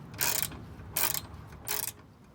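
A ratchet socket wrench clicks in three short, bright bursts while undoing a 10mm bolt holding car horns on a Ford ST170 under restoration, close and clear with quiet pauses between pulls.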